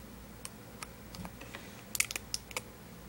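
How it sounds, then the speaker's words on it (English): Several short, faint clicks and taps from tape being pressed down by hand onto a homemade Xbox 360 controller battery pack, irregular and close, in an otherwise quiet room. "And then I'm going to tape it down."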